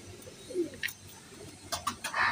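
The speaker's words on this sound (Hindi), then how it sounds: "ये जाख रामपुरी कबूतर हैं" Rampuri pigeons coo softly a few times at close range, with a faint rustle and brief higher calls, over a low background hum.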